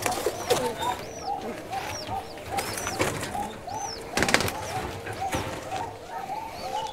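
Local Giribaj pigeons coo in a pair, rhythmic low coos repeating close by, mixed with higher chirps and some background voices.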